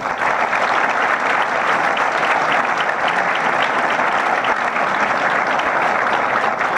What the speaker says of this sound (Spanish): Realmente agradezco mucho el aplauso